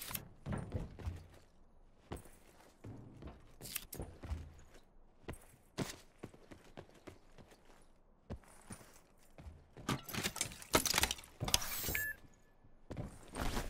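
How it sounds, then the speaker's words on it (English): In a video game, a big heavy door grinds and thunks open among scattered clanks and mechanical knocks, heard at a distance in bursts. "They opened the big door. I heard a big door."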